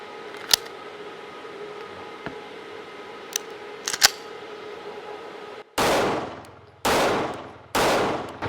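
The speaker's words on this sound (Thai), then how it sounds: "เดี๋ยวมาลองยิงกันเลยครับ สีแซด Shadow 2 Carry" A CZ Shadow 2 Carry pistol fired three times, each loud, close shot trailed by a long ringing decay, after a stretch of quieter background with a few sharp clicks and knocks.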